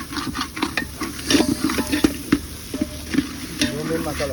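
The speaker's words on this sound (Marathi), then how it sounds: "डेंजर फोडणी आले, डेंजर फोडणी" Spices crackle and sizzle loudly in hot oil, with sharp pops and scraping stirring sounds close by, as Kashmiri red chilli and Kitchen King masala are tempered.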